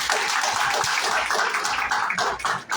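A church congregation applauding during a service, with dense rhythmic clapping that pulses in even beats and fills the room loudly for a few seconds.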